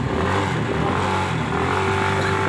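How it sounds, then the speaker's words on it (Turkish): A motorcycle pulls away with a steady, fairly loud engine drone and a slight rise in revs, continuous throughout with no talking. "şimdi motorla çıktı"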